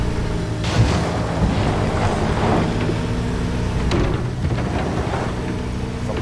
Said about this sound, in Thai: เวลาเราขยับเนี่ยปั๊มจะทำงาน